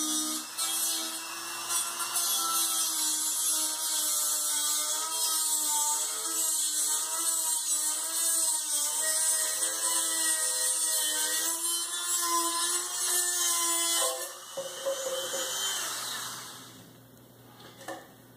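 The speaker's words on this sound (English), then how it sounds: "an easy way to do that is using something like a rotary Dremel tool. I'm going to score around the top of this tube, cutting off the excess plastic." A rotary Dremel tool scores around a plastic lake sediment core tube, a high, whining grind with wavering pitch running close and loud for about fourteen seconds before easing off into quieter scraping.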